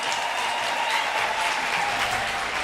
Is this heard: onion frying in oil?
no